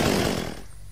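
A chainsaw in the video game Unturned revs loudly for a brief moment, then fades away within about a second.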